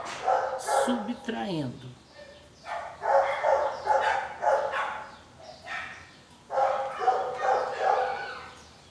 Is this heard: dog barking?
yes